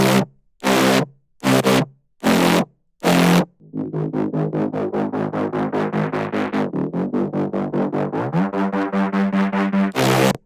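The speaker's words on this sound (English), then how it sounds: "Bass sounds like this." Synth bass from a Splice sample pack, processed with heavy Erosion distortion, plays a few loud separated stabs and then a long run of rapid, evenly pulsed notes with shifting pitch, close and alone.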